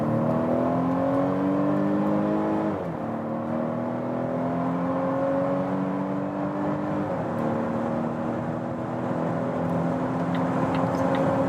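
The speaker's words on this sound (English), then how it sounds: "let's accelerate from 50 kilometers an hour" A 2020 Volvo XC60 B5 mild-hybrid accelerates hard from 50 km/h in dynamic mode, its engine note rising steadily through the gears with brief dips at each upshift, loud and continuous with road and wind noise beneath.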